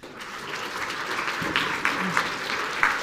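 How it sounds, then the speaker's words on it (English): Audience applause at a school Battle of the Books competition, a steady wash of clapping from a crowd with a few sharper claps standing out near the end. "She gets some applause."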